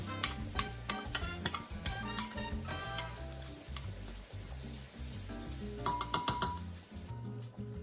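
Quick clinking and scraping of a utensil stirring black beans with oil, salt and garlic in a bowl, repeated in an uneven rhythm, close by with faint background noise.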